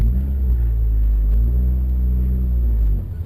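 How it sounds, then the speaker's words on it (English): Manual transmission car pulling away in first gear, a loud, steady low engine rumble building slightly with a little gas, then easing off at the end. "First gear. Give it a little bit of gas."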